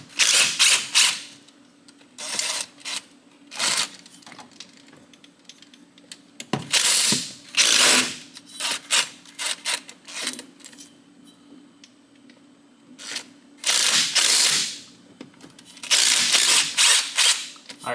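A ratchet spins out the bolts of a CV driveshaft during a rebuild, sounding as bursts of fast clicking separated by pauses, close and loud.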